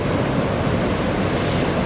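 Ocean surf at Anglet beach on a slightly choppy morning, a steady broadband roar of breaking waves with wind noise, continuous and loud with no voices.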